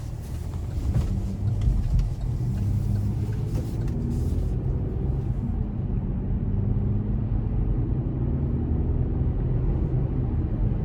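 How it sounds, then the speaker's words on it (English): A 2021 Chevrolet Colorado ZR2 Bison truck cruising on a road, a steady loud low engine and tire rumble with road noise that stays even throughout, heard from inside the cab with no talk. "take this 21 Colorado ZR2 Bison out on the road for a quick test drive"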